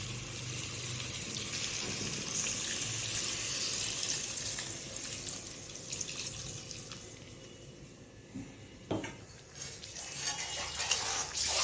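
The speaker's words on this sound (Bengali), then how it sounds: "তো এবারে আমি জল অ্যাড করব।" Water pouring and splashing into a pan of chicken kosha curry on the stove, a steady liquid rush with clinks and small splashes toward the end.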